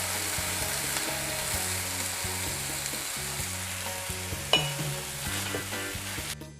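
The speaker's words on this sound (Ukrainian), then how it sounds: "Ось трошки цього молока наливаємо на сковороду." Milk poured into a hot frying pan sizzles loudly and continuously, with occasional clinks of utensils against the pan and a faint low hum underneath.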